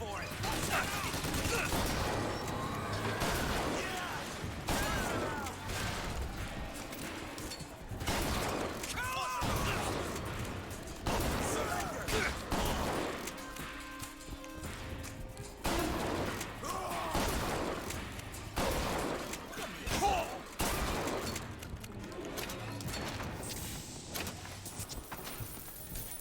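Shotgun fire in Bioshock Infinite, dense game combat with repeated loud blasts and crashes layered over constant music and effects for the whole stretch.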